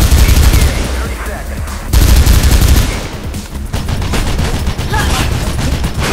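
Gunfire rattles in the video game Mirror's Edge, loud bursts of shots and heavy impacts filling the scene in dense, overlapping volleys.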